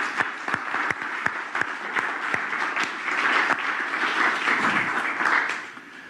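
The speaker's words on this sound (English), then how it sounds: "Let's give them all a round of applause." Congregation applauding musicians at a Sunday celebration service, a steady wash of many hands with sharp individual claps standing out, sustained for several seconds before tapering slightly at the end.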